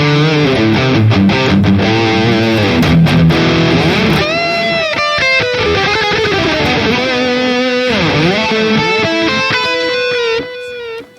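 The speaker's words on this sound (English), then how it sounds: "what you are hearing now is the sound coming from the line out with the built-in speaker emulation" A Harley Benton Fusion HSH guitar with a Wilkinson bridge, played through a Boss Katana 100 head Mk2 line out with speaker emulation, gives loud distorted riffs with bends and fast note runs that end abruptly.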